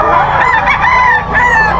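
A straight-combed SBR Gilmore gamecock rooster lets out a loud, close crow with a brief dip in the middle, set in a busy pet market in Bocaue.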